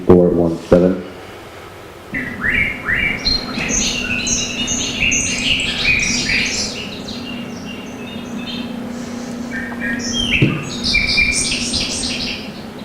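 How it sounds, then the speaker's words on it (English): A bobolink sings a long bubbling, tumbling song of rapid metallic notes, fairly close, over a faint low hum, after a couple of brief knocks. "Here's the bobolink for you."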